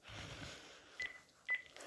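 Telephone keypad dialing tones as a call is placed, a couple of short beeps standing out alone against faint background noise, with a quiet voice early on.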